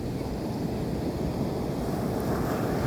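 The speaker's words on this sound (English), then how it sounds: "Sound of the waves." Ocean waves wash steadily onto a beach, a continuous broad rushing surf with gusty wind noise blowing across the microphone, loud and close with no voices.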